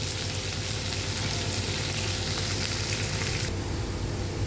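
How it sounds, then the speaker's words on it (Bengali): Onion and capsicum fry for chilli chicken with a steady, dense sizzle throughout, close and fairly loud, with no talk over it. "পেঁয়াজ ক্যাপসিকাম যতক্ষণ একটু ভাজা হচ্ছে"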